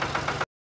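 Cartoon tractor engine idling, a low rhythmic chugging with a few regular pulses, moderately faint, lasting under half a second before cutting to silence.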